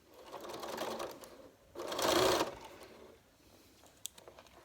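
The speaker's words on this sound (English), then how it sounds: "and then we're just going to sew down." A sewing machine stitches a fabric envelope mask in two short bursts of steady whirring motor buzz. The second burst is louder. A quiet pause and a faint click follow.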